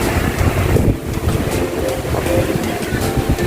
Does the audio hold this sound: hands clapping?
no